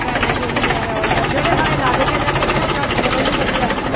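A loud tractor engine chugs with a steady, rapid knocking rhythm close by beside an overturned paddy-straw trailer, drowning out voices talking over it.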